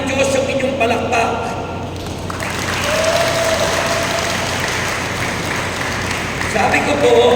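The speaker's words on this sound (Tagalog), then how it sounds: "nauunawaan ng Diyos yung palakpak nyo at pagsigaw nyo" Applause and shouting from a church congregation of senior worshippers in Taytay, Rizal, loud and steady for several seconds, with voices rising in a swell partway through and cheers mixed into the clapping.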